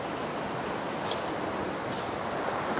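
Steady ocean surf rushes and churns at a rocky, kelp-strewn beach in Encinitas near high tide, a continuous loud wash of broadband noise with some wind buffeting and no voices.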